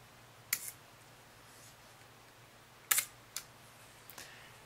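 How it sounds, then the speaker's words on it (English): An Okako Waltax II camera with shutter speeds from 1 second to 1/500 fires its shutter. Several crisp, isolated mechanical clicks sound up close in a quiet room, spaced a few seconds apart, with a couple of softer clicks near the end. "let's listen to the beautiful sound of a shutter on this camera"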